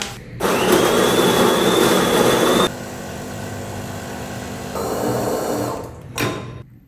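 A coffee machine brews an americano with a loud, steady whirring and grinding drone for about two seconds, then a quieter hiss and hum, followed by a short final burst.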